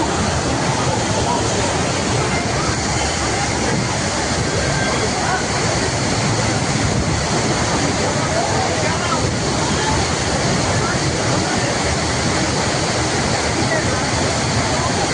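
The Athirappilly waterfall roars as a loud, steady, unbroken rush of falling water heard from close by, filling the whole scene.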